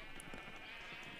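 Sheep bleating in Minecraft, quiet and faint, with a few short blocky bleats spread across a steady low background hum.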